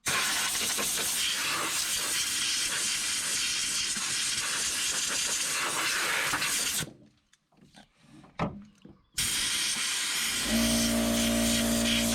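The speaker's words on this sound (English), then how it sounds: "This is a non-flammable contact cleaner." A can of non-flammable contact cleaner sprays a steady, loud, broadband hiss onto the brake master cylinder area of a 1986 Ford Ranger diesel. The hiss breaks off for a couple of seconds of quiet clatter, then resumes with a low hum.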